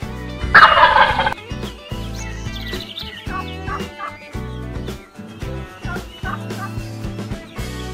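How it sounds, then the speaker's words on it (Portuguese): Toy turkey gobbles loudly in a quick rattling burst near the start, then fades under a bouncy music background with no speech. "Peru."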